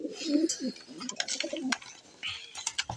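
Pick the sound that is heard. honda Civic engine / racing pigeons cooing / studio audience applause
racing pigeons cooing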